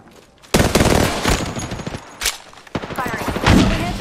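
Gunfire in the video game Apex Legends: loud, close automatic bursts start abruptly, pause and resume in several rapid volleys, with game voice lines heard alongside.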